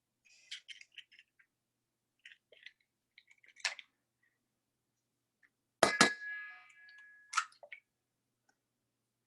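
A single egg cracked against the rim of a bowl and opened while making muffins: a few faint clicks, then a sharp tap and a short wet squish with drips, close by and otherwise quiet.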